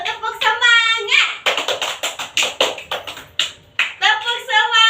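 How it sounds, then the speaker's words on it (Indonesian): A school class does rhythmic spirit clapping, with bursts of quick patterned hand claps mixed with children chanting and a teacher's voice leading along. "ayo kita tepuk dulu, tepuk semangat."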